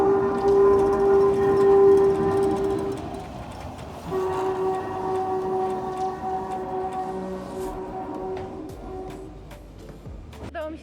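A train horn in Puerto de Sóller, Majorca, sounds in long, steady tones, pausing briefly before droning on again with continuous rumbling underneath.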